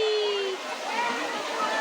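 Rushing water from the Muktai waterfall in a forest, a steady broadband roar that fills the whole short moment without break, with faint wind or voices blended in.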